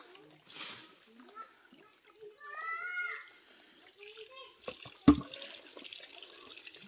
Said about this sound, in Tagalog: Agas-agas ang tubig oh. Kusog kayang tubig dire